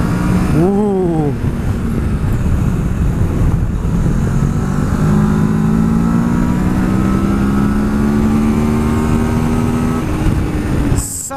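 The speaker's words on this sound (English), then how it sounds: "I really love this engine note. And this smooth roar." A Kawasaki Versys 650 motorcycle engine roars smoothly and close while riding, its pitch climbing steadily as the bike accelerates through the gears, with wind rush throughout.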